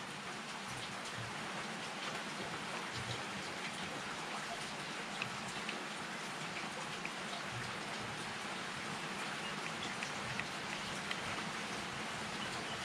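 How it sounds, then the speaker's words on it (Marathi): Heavy monsoon rain pours outside in an even, unbroken wash of hiss and patter, steady and fairly close throughout, with no voices over it. "बाहेर मस्त पाऊस सुरू आहे"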